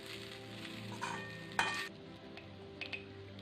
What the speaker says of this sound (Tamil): இதை அவலை இதில் கொட்டிடலாம். மெதுவாக பரட்டி விடுங்க.